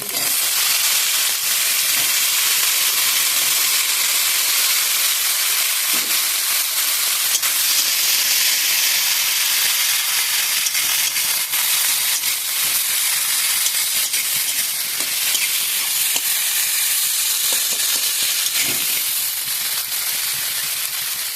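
Raw banana, washed and soaked with turmeric, sizzles and hisses steadily in a hot pan of oil while being stirred, a dense continuous frying sound with occasional scraping, loud and close for the whole stretch.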